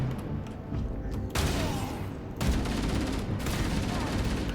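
An MA5C assault rifle fires in Halo in dense automatic bursts, a loud continuous rattle that swells sharply at two points, with gunfire filling the whole stretch and no clear speech over it.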